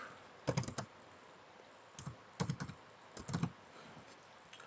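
Three quick bursts of typing on a computer keyboard, each a short cluster of clicky keystrokes separated by pauses, close and fairly faint in a quiet room.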